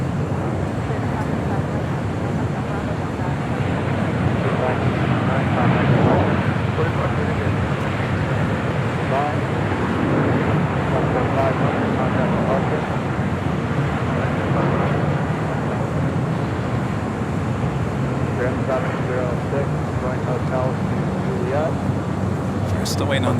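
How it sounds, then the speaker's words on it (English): An Asiana Airlines Airbus A350-900 arriving at LAX, a steady broad jet roar holding throughout at moderate distance, mixed with ambient outdoor noise and some voices. "we have another heavy Asiana Airlines flight 204 coming in from Seoul at A350-900"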